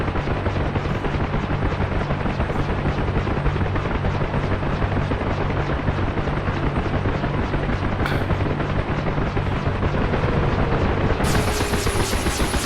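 Huey helicopter in the DCS flight game, steady loud rotor thump and turbine drone throughout, with brief sharp bursts near the end.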